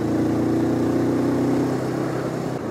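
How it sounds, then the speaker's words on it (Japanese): Honda CL500 motorcycle engine climbing a mountain pass uphill after shifting into fourth gear, a steady close droning note with a strong low pulse that stays even, then a slight dip in tone near the end. "ではここから本格的な上り坂なので、今4速シフトアップしました。"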